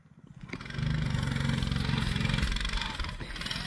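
A hunting motorbike's small engine revs up close after a short sputter, then holds a loud, steady buzzing drone that eases slightly at the end, with no talk.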